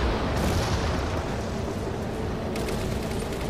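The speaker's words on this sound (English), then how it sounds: "the tank exploded." A tank explodes in the Halo 4 campaign, a loud, dense roaring blast that fills the whole short span with heavy rumbling noise and no talk over it.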